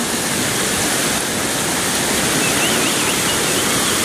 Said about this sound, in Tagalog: Sobrang lapad na yung baha.